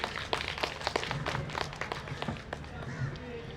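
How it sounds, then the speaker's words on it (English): Audience claps at a literature festival's open mike and book reading event, scattered individual claps in a steady patter rather than a thunderous ovation, with a voice speaking over them. "A louder round of applause, please."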